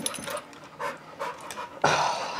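A dog pants in quick, breathy bursts with a few whimpering whines mixed in, close by in a quiet indoor room, with no talking.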